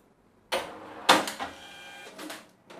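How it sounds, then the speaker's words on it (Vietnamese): An ANTECH RT335 cash drawer springs open on its own as a receipt printer prints, giving a sharp clunk, a burst of mechanical whirring and rattling, then a final clack, all fairly close and with no talking. "Két tiền mở tự động, hóa đơn thì được in ra."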